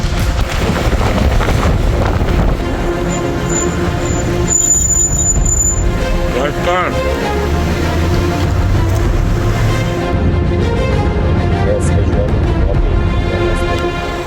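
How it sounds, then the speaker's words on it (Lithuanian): Strong wind in a desert sandstorm in Morocco roars and buffets the microphone loudly and continuously, with brief tonal beeps partway through and a sustained low rumble. "Vėjo netrūksta šiandien mums."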